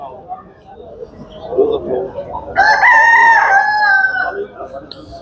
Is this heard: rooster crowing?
yes